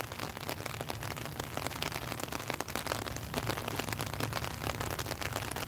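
Rain pours down steadily onto a surface and grows heavier, a dense, continuous patter of drops that stays loud and even throughout, with no voices.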